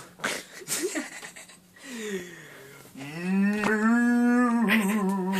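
A person imitates a slow-motion cow, voicing a long, drawn-out moo with wheezy, breathy stretches between, loud and close, with the tone rising into a sustained lowing groan toward the end.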